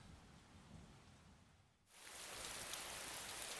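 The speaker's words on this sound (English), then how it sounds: "You can hear it raining outside." Video game rain falls softly outside at first, then a sudden wash of heavier, louder rainfall pours down steadily for the rest.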